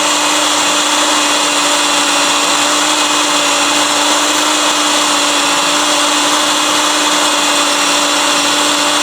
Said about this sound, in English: Just let it drill.